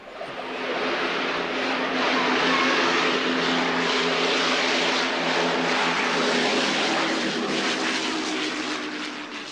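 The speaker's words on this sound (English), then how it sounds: "This is the Lancaster bomber, filmed by a member of public at an air show in Woodford at some point in the 1980s" A Lancaster bomber's engines drone loud and steady at an air show in Woodford in the 1980s, a continuous powerful roar with no pause throughout.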